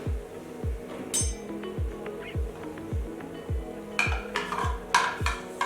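A metal whisk beats a sticky muesli bar mixture in a bowl, giving a steady series of rhythmic clinks and scrapes, roughly two strokes per second, close up with occasional sharper utensil taps.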